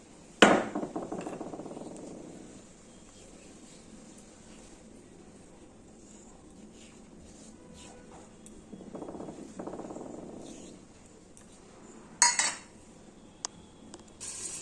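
A lid lifted off a cooking pot of fish curry with potato and tomato, a sharp metallic clank followed by faint kitchen clinks, with a later clatter near the end.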